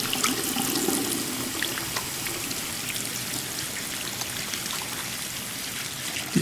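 Steady rush of water pouring into a bathtub in Life is Strange 2, a continuous hissing splash with faint drips, close and even throughout.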